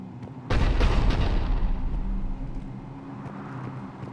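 Cannon firing in Mass Effect 3, a heavy booming blast that starts abruptly and rumbles loudly for a couple of seconds before tapering into a lingering low roar.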